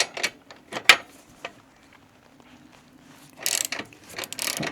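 A ratchet works loose the rear rack mounting on a Royal Enfield Meteor 350 motorcycle, giving sparse, close clicks and short ratcheting bursts, then a quicker run of rapid clicking near the end.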